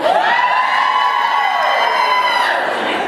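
Loud crowd cheering and whooping at a Beachbody Coach Summit, a dense roar of many voices with shrill shouts, steady throughout and fading slightly at the end.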